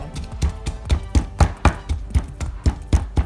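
Ingredients smashed with a steady, regular pounding while being turned, about a dozen firm thumps roughly every quarter second, close and fairly loud with no talk.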